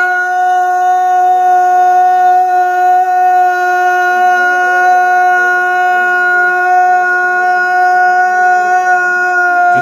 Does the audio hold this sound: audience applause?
no